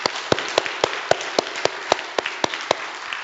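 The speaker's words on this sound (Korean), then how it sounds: "우리 뜨겁게 박수로 함께 영광" A congregation at an Easter Sunday church service claps in a steady, rhythmic beat, with sharp evenly spaced strikes standing out above a dense, continuous wash of hand claps throughout.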